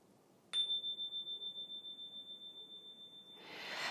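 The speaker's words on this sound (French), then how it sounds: "dans le coffret, vous avez un Energy Chime" An Energy Chime is struck once, giving a sharp metallic attack and then a pure, ringing tone that pulses gently as it slowly fades, before a soft rush of noise at the end.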